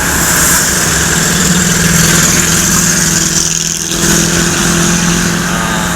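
A bus engine idles steadily and loudly at close range as the bus halts to take on passengers, a continuous low rumble with a brief dip midway.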